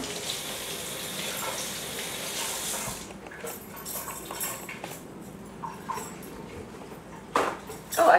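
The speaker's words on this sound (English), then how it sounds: "I'm going to rinse my hands off." A kitchen tap runs steadily for a few seconds while hands are rinsed, then shuts off, leaving faint clinks and light handling sounds nearby, with a couple of louder knocks near the end.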